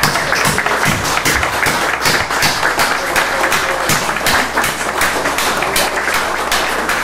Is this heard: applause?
yes